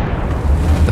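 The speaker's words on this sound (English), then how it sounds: "Nice explosion." An explosion in the fantasy 4X strategy video game Last Regiment, a short loud low rumbling boom lasting about a second, with no talk.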